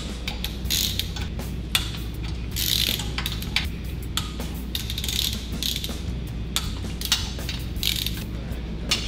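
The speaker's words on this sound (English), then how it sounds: "now we're going to go through and torque. Let me get my torque wrench." A torque wrench tightening the cylinder head nuts on a 1600cc engine during top-end assembly. Repeated close ratcheting clicks come in short bursts over a low steady hum, with brief creaks between strokes.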